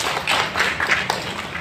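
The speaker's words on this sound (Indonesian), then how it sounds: "Tepuk tangan buat Bapak Bupati." An audience at an Indonesian community gathering applauds the Regent with a short run of scattered, uneven hand claps and taps, fairly close and moderately loud.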